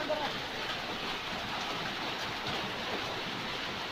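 Heavy rain pours down in a steady, dense hiss during a hailstorm in Karnataka, unbroken and fairly distant for the whole stretch with no voices.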